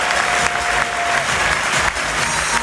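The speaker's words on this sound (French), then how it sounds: "c'est Christian Riedmann et Lara Van Est, qu'on peut applaudir." Spectators applaud the crew of a Citroën DS3 at the Rallye de France Alsace, a WRC event, with continuous close clapping that stays loud throughout.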